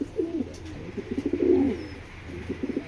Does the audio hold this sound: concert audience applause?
no